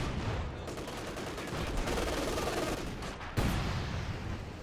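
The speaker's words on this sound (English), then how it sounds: "all three of the Katyushas are firing right there" Katyusha rocket artillery barrages in Company of Heroes 2, a dense continuous rumble of overlapping blasts and explosions with a sharp louder impact near the end, battle noise throughout with no clear talk.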